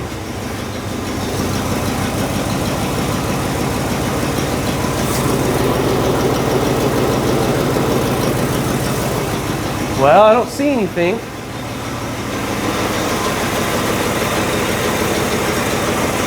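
A classic truck engine idles steadily after starting, a low continuous rumble heard close up, with someone speaking briefly over it partway through.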